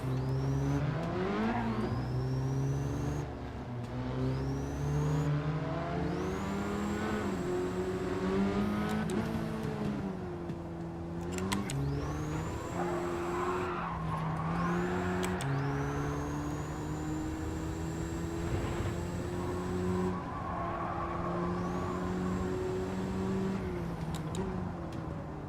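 A Hyundai Elantra in Gran Turismo 7 drives with a steady, moderately quiet engine drone that rises and falls through gear changes, with whirring shifts and occasional quick rev sweeps.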